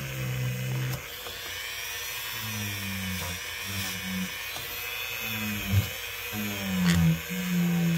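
Pocket knife blade being polished with a high-pitched rotary power tool, a steady whine that shifts in pitch as the blade is pressed against it, close and alone without speech.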